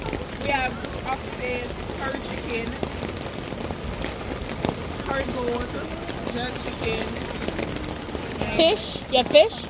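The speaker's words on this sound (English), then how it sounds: "It is raining heavily out here." Heavy rain falls outdoors at the Atlantic Antic street festival, a constant patter and hiss on surfaces beneath nearby voices chatting throughout.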